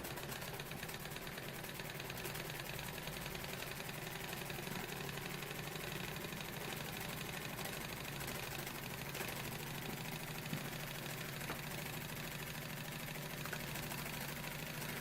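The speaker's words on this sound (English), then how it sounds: "hopefully we'll have a working steam engine" Airosol Model 301 model steam engine with a heating element, running steadily. A continuous, even mechanical hum and rapid chuff persist at constant level throughout, fairly close and without voices.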